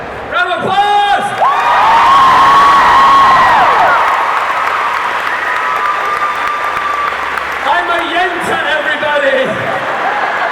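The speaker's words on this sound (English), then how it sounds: "Round of applause!" Convention panel audience bursts into applause and cheering with whoops, loud and close, while a voice speaks and sings over the start and end.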